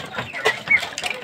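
A white hen clucking close by in a short series of soft, broken calls with a few higher squawky notes, alone without speech.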